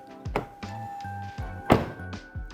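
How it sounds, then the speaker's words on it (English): Two solid, heavy thunks of a 2023 Lexus LX 600 Ultra Luxury door shutting, spaced about a second apart, close by with a deep low-end thud. "we have to listen to the sound the doors make"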